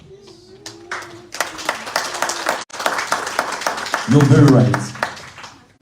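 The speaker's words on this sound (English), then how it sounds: "I want you to clap for" An audience at a town hall meeting of Ugandans in Copenhagen claps in bursts between a speaker's words, the clapping swelling into a louder stretch toward the end.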